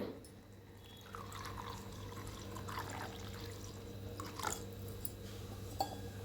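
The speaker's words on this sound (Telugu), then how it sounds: "అలాగే నీళ్ళు కూడా పోయాలి" Water is poured into a pot of roasted vermicelli payasam that already holds milk, making a soft, steady liquid pour with faint drips over a low background hum.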